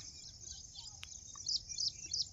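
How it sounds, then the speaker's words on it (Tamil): Sparrows feeding on a millet crop chirp faintly in a quiet outdoor setting, with scattered bright tweets growing a little busier toward the end and a soft insect-like buzz beneath. "இங்கே பாருங்க, எவ்வளோ குருவிங்க."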